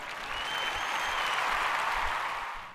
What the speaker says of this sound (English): Everybody, please clap.